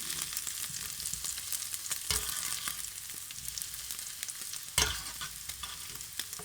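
Pancetta sizzles steadily in a fry pan, the constant crackle broken by a few sharp pops and the scrape of stirring, with no voices over it.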